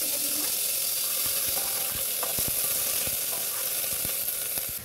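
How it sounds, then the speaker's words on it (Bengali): Finely chopped medium onion sizzles steadily in a pan, a constant bright frying hiss with occasional small pops and stirring taps, heard close with no talking. "পেঁয়াজ হালকা সতে হয়ে গেছে।"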